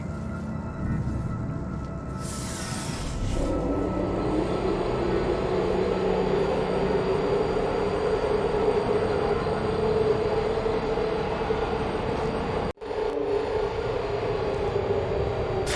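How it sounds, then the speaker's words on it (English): A lift in the game Portal Stories: Mel travels with a steady, loud mechanical rumble and rising hum, a brief hiss near the start and a sharp cut-out before it resumes, with no talking. "The elevator wasn't going to my testing track, so I've rerouted the lift."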